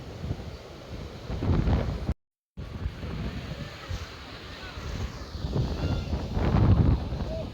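Heavy, unusually rough surf at Digha beach rolls and crashes in steady surges, with strong wind buffeting the microphone and a brief dropout partway through.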